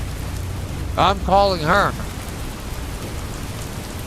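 Steady rain hisses continuously at a moderate level, with a short spoken phrase briefly heard over it partway through.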